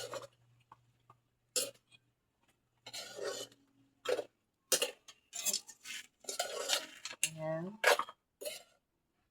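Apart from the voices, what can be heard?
stirring food in a pot with a utensil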